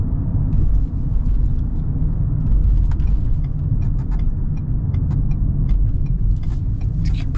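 A 2024 Ford Bronco Sport Badlands with a 2.0 engine accelerating, a steady, loud low rumble from the cabin with faint clicks and ticks scattered over it and no talking.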